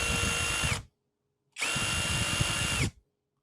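A HyperTough 12-volt brushless cordless drill runs in two loud, steady bursts, each spinning up to a constant whine and then stopping, with a short silent gap between them.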